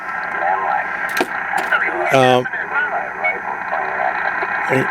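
Noisy CB radio receiver audio hisses and crackles with a garbled, band-limited voice coming through, plus a brief tonal burst partway through.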